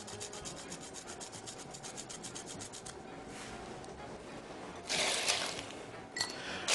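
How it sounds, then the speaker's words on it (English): Fresh whole nutmeg grated over a holiday drink: a quick run of dry, rhythmic rasping strokes, followed by a few louder scraping bursts, close and alone with no talk. "I'm also to grate some fresh nutmeg into it."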